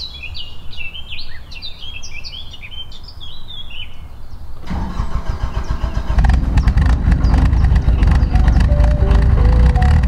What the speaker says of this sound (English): I'm going to turn the engine on.